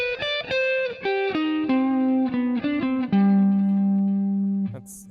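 Single-note melodic line, probably a clean electric guitar, plays arpeggios with neighbor tones stepping around chord tones, a quick run of distinct notes descending and settling into a long sustained low note.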